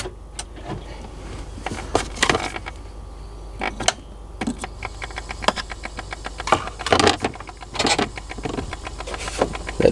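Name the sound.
HVAC actuator moving on a Volvo VNL semi truck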